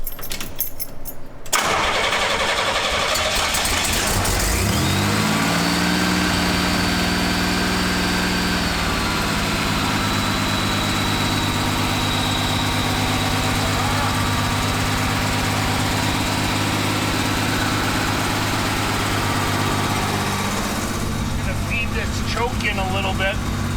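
A 1969 McLaren M6GT replica, parked since 1985, catches and runs after choking, its engine settling into a steady, loud idle with rough harmonics and a shift in pitch partway through, while people talk over it.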